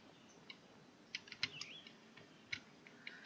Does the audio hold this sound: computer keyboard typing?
yes